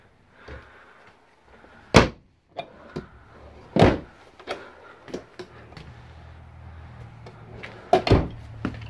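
Cabinet doors under the sink in a 2021 Starcraft Super Lite 212FB travel trailer are opened and shut, giving several sharp wooden clacks and knocks spaced across a quiet interior, with a faint hum underneath.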